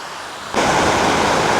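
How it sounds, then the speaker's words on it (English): A creek rushes over rocks at Seven Tubs Nature Area in Wilkes-Barre, Pennsylvania, a dense, steady broadband water roar that jumps suddenly louder partway through and continues close and alone. "goes over these rocks here down into merging with this other"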